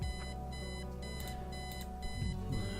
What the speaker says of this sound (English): Eileen's obnoxious alarm clock.